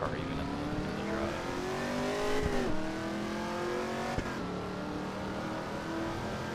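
A race car engine in a racing video game at Fuji Speedway hums and revs steadily, its pitch climbing and dropping through gear shifts, with a tire squeal and a sharp knock midway.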